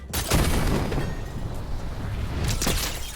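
Siege cannons fire in a video game, giving deep booming blasts with a heavy impact near the start and another burst later, amid a rumbling, noisy battle background.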